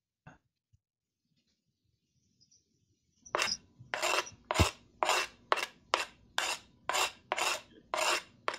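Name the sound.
cutting on plastic cutting board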